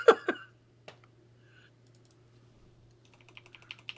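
Computer keyboard keys click at a desk: a couple of sharp taps at the start, a lone click, then a run of quick, light typing toward the end over a faint steady hum.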